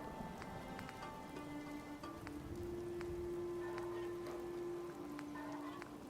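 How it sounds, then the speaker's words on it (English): Steady rain patters on surfaces in the video game Fallout 4, a quiet, even hiss running throughout beneath sustained tonal game ambience and a few faint clicks. "Hope this rain lets up soon."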